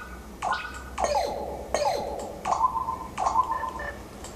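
A series of short synthetic chimes and blips, each with a quick tonal sweep, repeating about every second like menu interface sounds in LittleBigPlanet Karting.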